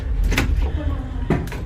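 A cabin door opening aboard the Hurtigruten ship MS Trollfjord, two short clunks and slides close by with a brief pause between them.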